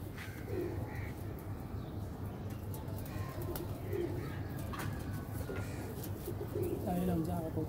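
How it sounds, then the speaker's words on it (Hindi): Pigeons at a breeder's loft in Shahjahanpur coo and call repeatedly in low, throaty bursts, with occasional brief caws and other birds mixed in, under steady background noise and some faint talk. "कबूतर देख रहे होंगे जैसे अटैक में है"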